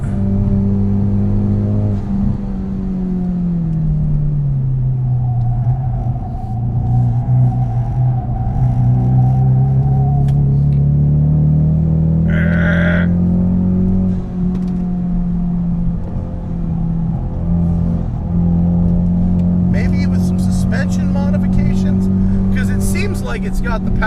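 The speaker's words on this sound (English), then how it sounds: "You know, it's still kind of a heavy car, but it feels like the power is there to get it to go sideways." A heavy car's engine drones and swells as it slides sideways, a steady low rumble rising and falling under someone talking over it.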